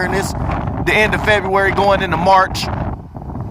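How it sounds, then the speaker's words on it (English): A person talks outdoors beside a Mercedes CL550 while low, blustery wind rumble buffets the microphone throughout. "excuse the wind noise, it is super windy out here"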